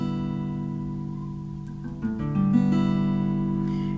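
Guitar strings sounding in tune, a sustained low chord ringing with rich overtones and another note or two plucked near the end, moderately loud with no talking.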